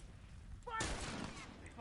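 Burst of gunfire in a competitive The Last of Us esports match, a dense volley of shots breaking in partway through over steady game ambience, with a commentator's voice running alongside.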